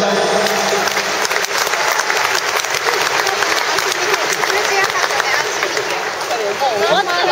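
A crowd at an under-19 international football match between France and China in Sendai applauds loudly and continuously, with a dense clatter of clapping and a voice speaking over it.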